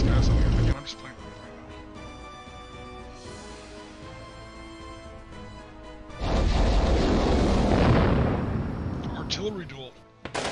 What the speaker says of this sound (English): Artillery duel.